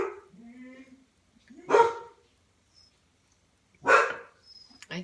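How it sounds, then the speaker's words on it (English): Several dogs on a farm with barn cats and chickens bark in two sharp, loud bursts spaced a couple of seconds apart, with quieter murmuring between. "These dogs, they have no idea what they're barking at."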